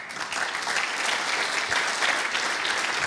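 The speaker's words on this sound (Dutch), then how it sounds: "Mag ik een groot applaus voor de voorzitter van het Jaar van de Ruimte, Yves de Boer." An audience applauds at a Jaar van de Ruimte on-tour event in Arnhem, with dense, even clapping that swells slightly and holds steady throughout.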